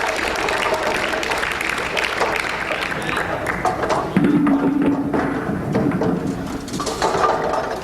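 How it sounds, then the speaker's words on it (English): Bowling pins clatter loudly during a 2001 Weber Cup ten-pin match, then crowd applause swells and carries on under a commentator's talk in a big arena. "A double for Thornton, straight out of the textbook."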